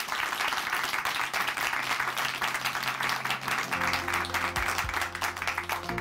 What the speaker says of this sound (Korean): 다시 한번 응원의 박수 보내드리겠습니다.